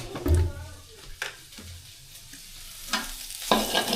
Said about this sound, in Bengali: তেল দিয়ে দিই কড়াইতে যেন লেগে না যায় একবারে